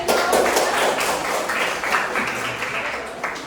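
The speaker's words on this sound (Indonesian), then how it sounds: "ini tepuk tangan umum" A group of people in a school performance-exam setting claps together in a brief, dense round of applause, steady and moderately loud, with a voice speaking over part of it.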